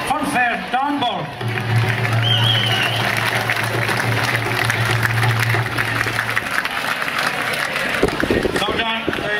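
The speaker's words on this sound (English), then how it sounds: "Could we have a round of applause from Bird's Funfair, Don Bird." A crowd applauds at a celebration for Bird's Funfair marking 75 years in Kerry. Steady, fairly loud clapping runs for several seconds, with voices talking over it and a low humming tone underneath.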